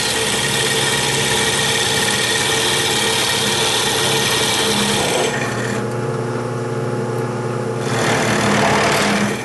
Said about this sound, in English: So here I am drilling this out with the Forstner bit in the drill press.